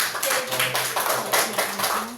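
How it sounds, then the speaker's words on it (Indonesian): A short burst of dense clapping from a small group, close and lively, lasting a couple of seconds. "tepuk tangan untuk Mbak Eni"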